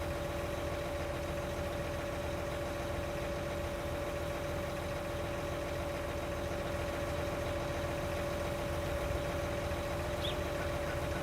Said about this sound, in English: I think that this T9 feels like it's idling as we're going down the hill here.